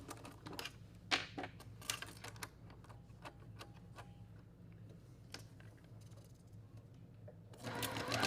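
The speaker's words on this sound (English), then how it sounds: "I'm going to sew this with a 1/4 inch seam." A domestic sewing machine sews a quarter-inch seam on a quilt block, faint ticking and clicking in an uneven patter, building at the end into a steady close mechanical whir.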